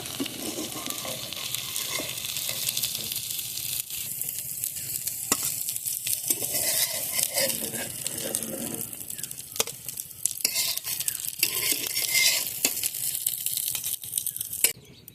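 Lentil fritters (bora) sizzle steadily in hot oil in a wok while a spatula scrapes and stirs, making irregular clinks and rustles over a constant frying hiss.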